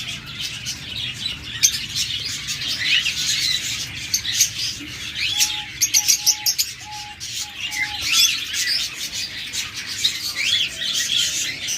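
Budgerigars, cockatiels and lovebirds in a pet bird sale setting chirp and tweet in busy overlapping bursts, with a short run of repeated clear whistled notes midway and faint wing flutters, close and lively throughout.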